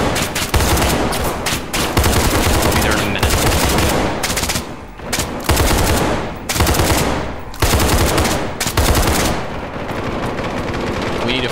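Sustained LMG fire in the tactical shooter game SCP 5K, loud and close, with long automatic bursts broken by brief pauses and faint voices underneath.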